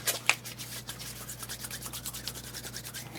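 Hands rubbing together after being rinsed with rubbing alcohol while working with polymer clay, a soft continuous friction swish lasting a few seconds, close and quiet with one small tap near the start.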